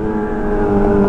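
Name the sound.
motorcycle exhaust pops and revving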